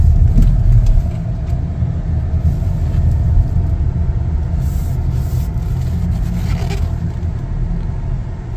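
A 2025 Chevrolet Equinox LT AWD drives during a test drive, heard from inside as a steady low road rumble and engine hum that stays even throughout, with no talking.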